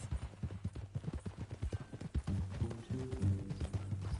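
Rhythmic clip-clop of horse hooves in Red Dead Redemption 2, close and steady, with a low snort or whinny and faint background tones toward the end.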